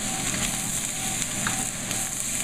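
Vegetables fry in olive oil in a stir-fry pan with a continuous loud sizzle and faint utensil scrapes as they are stirred.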